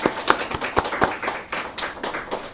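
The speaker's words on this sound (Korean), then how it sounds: "박수 한번 쳐주세요." Scattered hand claps from a church congregation at a Sunday service in Seoul, a loose, sparse handful of separate claps rather than full applause, fairly close and with no talk over them.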